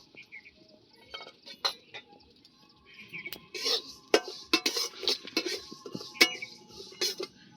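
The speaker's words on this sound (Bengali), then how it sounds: "প্রথমে কড়াইতে শুকনো খোলাতে দিদা ভেজে নিচ্ছে জিরে আর মৌরিটা" Cumin and fennel seeds being dry roasted in a wok, heard as irregular metallic clinks and scrapes of a spatula stirring, some sharp and close, over quiet background.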